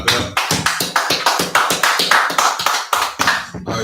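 A small crowd claps in a steady, rhythmic unison beat, roughly two sharp claps per second, loud and close for several seconds with no talking over it.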